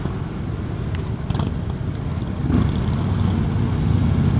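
A 2016 Harley-Davidson Road King motorcycle on a city test ride gives a steady, rumbling engine drone that swells louder toward the end as the bike pulls harder, with no talk.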